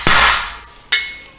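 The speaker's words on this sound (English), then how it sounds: "we're pounding on a 15 mil socket right now" Two sharp metallic clangs ring out as a hammer pounds a 15 mm socket under a Hyundai Elantra while removing the catalytic converter; the strikes are close and loud, about a second apart, each fading with a ringing tail.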